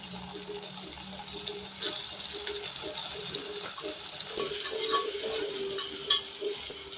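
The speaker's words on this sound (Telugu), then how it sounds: "అలా ఫ్రై అయ్యాక అల్లం పేస్ట్ వేసుకోవాలి." Ginger paste fries for a mutton curry, a soft, quiet sizzle broken by occasional stirring scrapes and taps against the pan, close by and fairly faint.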